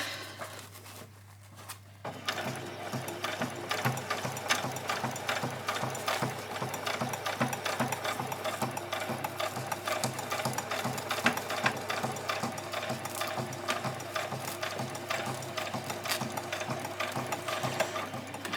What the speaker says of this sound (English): So I put in a 90 leather needle to do this.